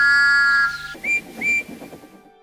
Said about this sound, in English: the sound of a train whistle has a universal appeal